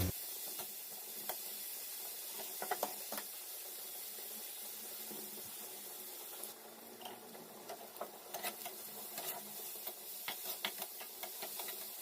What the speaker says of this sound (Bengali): দেখুন, হালকা হালকা করে এটা ভাজাও হয়ে যাচ্ছে